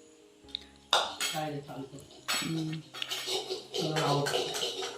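A kadhai cooking pan clatters and scrapes as it is handled, metallic knocks and clinks coming close and loud in bursts, with people talking over the clatter.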